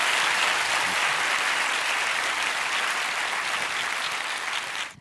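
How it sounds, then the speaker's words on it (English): Audience applause for a legendary creative entrepreneur at a Hall of Fame event, a dense, steady clapping that holds loud and even throughout and cuts off abruptly at the very end. "Please give a generous round of applause for a legendary creative entrepreneur"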